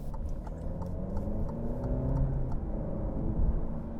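An Alfa Romeo Giulia TI Q4 accelerates in dynamic mode. The engine note hums and rises steadily, with tire and road noise beneath it and no talk.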